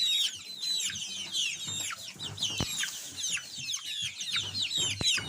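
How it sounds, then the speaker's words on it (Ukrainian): Hens and young chicks on a farm cluck and cheep close by, a busy overlapping stream of short calls with occasional louder squawks, and no one talking. "Ось прийшла вже до курочок, до курчат"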